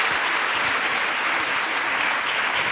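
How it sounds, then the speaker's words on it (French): Steady, loud audience applause fills an amphitheatre at an academic colloquium, dense clapping from a large crowd sustained evenly throughout without talk. "je pense qu'on peut encore applaudir pour le travail remarquable qu'elles ont fait"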